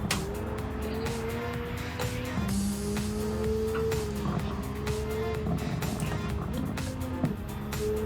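Nissan R33 GT-R V-Spec '97 engine in Gran Turismo 7, a steady sustained drone with pitch shifting through gear changes, continuous throughout at close range with faint tire noise.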